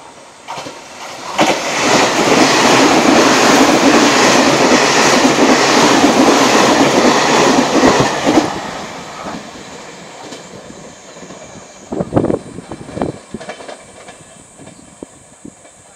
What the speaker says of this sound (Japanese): 下り8000系潮風号石槌号が通過です。